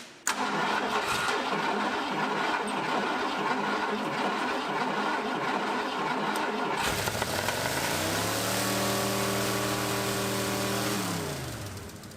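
A 1968 Ford Ranchero engine cranks and fires up after the coil wire is hooked up, catching into a loud running roar with a couple of rising and falling revs before it settles and fades slightly.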